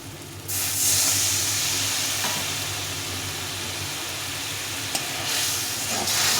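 Masala fries slowly over low heat in a pan, giving a steady, fairly loud sizzle and hiss that holds continuously with no voices.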